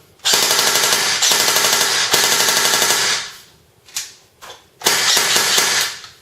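Rapid full-auto bursts from a G&G FNC airsoft rifle, a long rattling stream, a brief pause with a couple of short clicks, then another sustained burst, loud and close.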